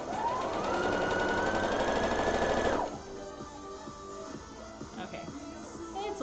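A sewing machine stitching a hem runs steadily with a rising whir for almost three seconds, then stops, leaving quiet room sounds and small handling clicks.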